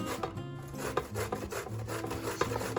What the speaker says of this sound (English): Why do you have to use a grater?